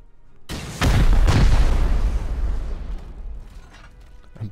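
A rocket detonates in a Rust base raid, a single heavy boom with a sharp second crack, followed by a long rumbling decay and some scattered debris clatter.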